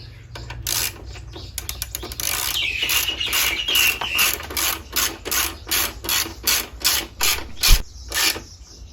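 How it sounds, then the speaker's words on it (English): A ratchet wrench clicks in rapid repeated strokes as it tightens the rear shock nut on a Royal Enfield Super Meteor 650, with a rhythmic burst of ratcheting every half second, close and loud. "Now I can do this up tightly."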